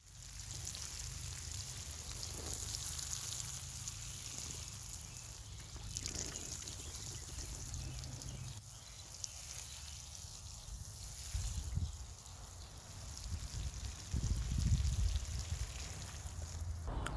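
Water is poured over a kale bed mulched with straw, grass and shredded leaves, a steady close trickling and splashing that runs continuously, swelling a little toward the end.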